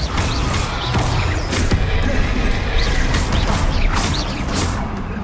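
Repeated Bombarda blasting spells cast in the wizarding video game Hogwarts Legacy: a loud, constant roar of combat with several sharp bursts and crashes spaced through it.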